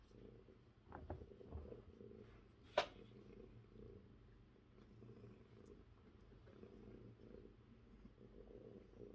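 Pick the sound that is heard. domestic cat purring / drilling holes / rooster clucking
domestic cat purring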